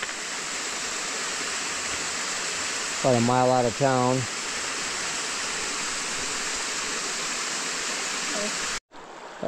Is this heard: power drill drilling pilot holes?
no